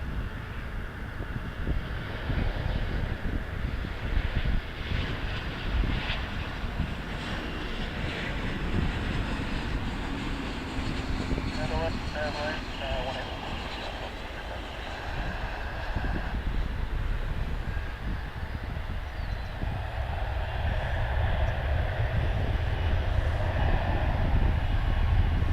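An airliner, flight 1562 from Oklahoma City, arrives at foggy Dallas-Fort Worth International Airport, a continuous broad roar of jet engines rising and swelling over the whole span, heard from the ground at a distance.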